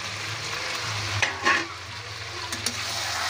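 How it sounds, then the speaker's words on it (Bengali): Chicken and pre-fried potatoes are stirred together in a hot pan for a village-style chicken curry: a steady sizzle with a few sharp spatula scrapes, close and moderately loud. "চিকেন আর আলু একসঙ্গে আরেকটু কষিয়ে নিতে হবে।"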